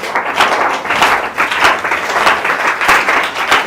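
A church congregation applauds loudly and steadily during a deliverance worship service, with dense, continuous clapping that rises and falls in waves.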